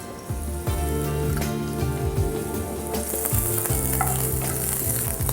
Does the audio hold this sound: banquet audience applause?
no